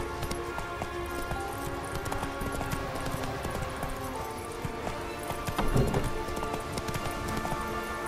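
Horse hooves clip-clopping at a steady run in The Witcher 3, a continuous rhythmic patter under game music and ambience, with a brief louder burst near the end.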